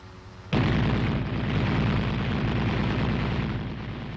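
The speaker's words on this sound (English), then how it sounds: "He opens fire when he is on target." An M551 Sheridan armored reconnaissance vehicle's commander-mounted machine gun opens up abruptly in one loud, sustained, rapid-fire burst that rattles on for several seconds before easing slightly in level.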